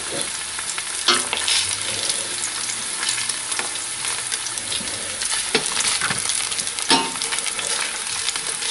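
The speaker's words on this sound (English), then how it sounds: "So let that sizzle for another couple of minutes." Ginger sizzling in hot cooking oil in a pan for chicken with ginger and green onion, a steady close crackling fry with occasional louder stirring scrapes, no talking.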